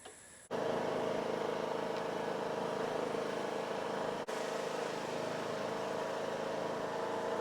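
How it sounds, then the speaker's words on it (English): A John Deere tractor engine starts half a second in and then runs at a steady idle for the rest of the clip, a loud constant drone with a brief dip near the middle. "I'm going to get my John Deere tractor and hook it up."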